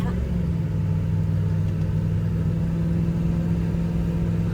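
A second-generation shortie truck's engine runs with a steady, loud, low rumble that holds even throughout, a little down on power.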